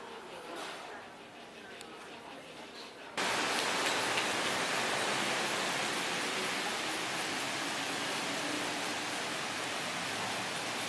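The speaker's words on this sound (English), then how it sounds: "that rain was absolutely horrendous" Heavy rain pouring down in Bangkok, a dense broadband hiss that jumps suddenly louder a few seconds in and then stays steady and close, with a voice speaking faintly beneath the downpour.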